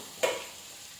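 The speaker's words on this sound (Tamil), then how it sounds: "அந்த பச்சை வாடை போகிற வரைக்கும், வெங்காயத்தோட பச்சை வாடை போகிற வரைக்கும் நல்லா வந்து ஃப்ரை பண்ணிக்கிடுவோம்." Onions and curry leaves frying in a clay pot for okra tamarind curry: one short stir-and-sizzle burst near the start that fades quickly into quiet background hiss, without speech.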